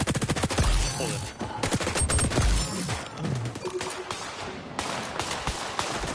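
Rapid bursts of gunfire in the shooter game XDefiant, a fast, loud volley of single and automatic shots with sharp, close cracks, thinning to scattered shots later with brief talk underneath.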